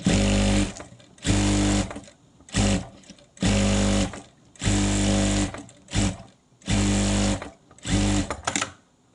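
A sewing machine stitching fabric runs in loud, close bursts of about a second each, with brief pauses between runs.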